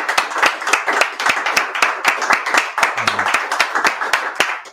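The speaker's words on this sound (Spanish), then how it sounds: "un muy, muy fuerte aplauso por parte de la audiencia" An audience claps steadily in a lecture hall at a Value School talk, the quick hand claps dense and close, with no one speaking over them.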